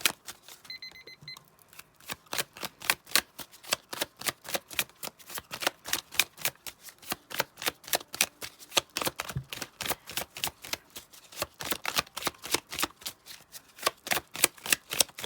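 Tarot cards being riffled and shuffled by hand, a dense run of crisp rapid flicks in steady bursts, close and clear with no talking.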